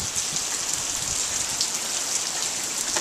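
Steady rain falling outdoors, a dense, even hiss of drops that stays loud and constant throughout, with no talking.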